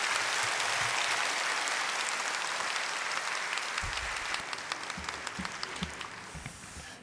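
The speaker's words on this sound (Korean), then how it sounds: "박수로 모시겠습니다" A church congregation at a Sunday worship service claps to welcome the pastor to the pulpit, a steady, full wash of applause that gradually thins into scattered claps toward the end.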